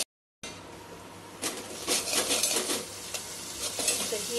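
Masala being stirred with yogurt in a pan, the spatula scraping in an uneven rhythm over a light frying sizzle after a brief silent start.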